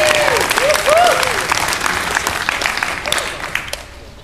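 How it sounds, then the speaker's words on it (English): An audience gives a round of applause to honour a legendary guest, dense clapping that starts loud and slowly tapers, with a voice briefly sounding over it near the start. "Please give him a round of applause."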